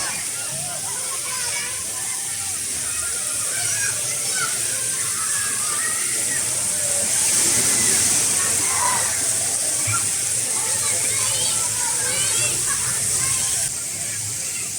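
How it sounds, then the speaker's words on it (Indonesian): Water splashes and pours continuously at a water park where a giant bucket tips over. Loud rushing and hissing spray fill the scene, with children's voices and chatter mixed in throughout. "Jadi kita nungguin gentong airnya jatuh."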